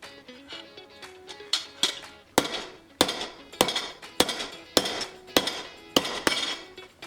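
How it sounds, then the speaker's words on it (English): A 2-pound sledgehammer strikes a copper bracelet to flatten it, landing about a dozen sharp, ringing metallic blows at a fairly steady pace, close and loud, each followed by a brief decay. "we're going to take my big sledgehammer, the 2-pound one, and we are going to try to flatten it out"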